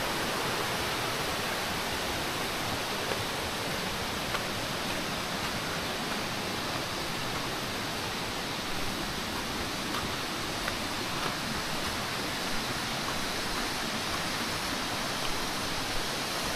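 Bigaho waterfall in Palawan roars in a dense, unbroken wash of falling water, steady and loud throughout with no other sounds standing out.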